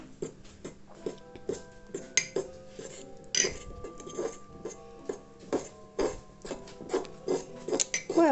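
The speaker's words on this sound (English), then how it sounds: "So I'm going to give it a stir, see what happens" Cake batter made with oil and milk is stirred in a bowl for a Harry Potter cauldron cake, with soft, close scraping and clinking of the spoon against the bowl in an irregular rhythm.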